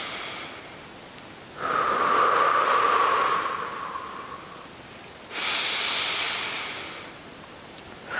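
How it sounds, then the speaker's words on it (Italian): Two deep, drawn-out breaths taken close to the mic while finishing a standing Pilates abs workout, each a loud airy rush lasting a few seconds, with quiet pauses between and no talking. "Inspiriamo."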